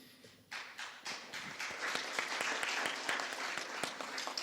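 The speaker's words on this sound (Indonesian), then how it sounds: "Sekali lagi dong tepuk tangannya biar saya tambah semangat lagi" Audience clapping for a speaker at an Indonesian entrepreneurship event, bursting in after a brief pause and building into dense, sustained applause with sharp individual claps, fairly close.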